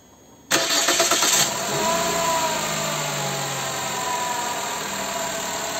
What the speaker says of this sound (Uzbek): Mana bittada zavod bo'ldi.